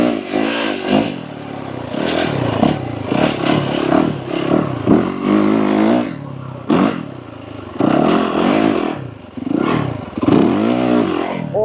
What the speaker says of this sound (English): That instant torque just straightened the bike out so quickly.